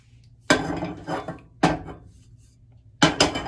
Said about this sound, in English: We're gonna be using this pot.